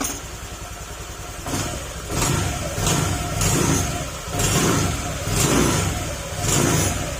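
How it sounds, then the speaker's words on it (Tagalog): A Honda Click 150 scooter engine making a chirping noise before overhaul revs repeatedly in rhythmic bursts, rising and falling about once a second, close and loud with a rough idle between. "ito na yung tunog ng makina niya ngayon"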